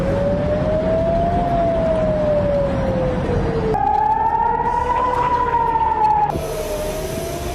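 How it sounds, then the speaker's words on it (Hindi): An air raid warning siren wails over Tel Aviv, its loud, steady tone rising and falling in long sweeps that carry through the whole stretch with no talk. "तेल अवीव पर हर घंटे चेतावनी के लिए सायरन बजता है"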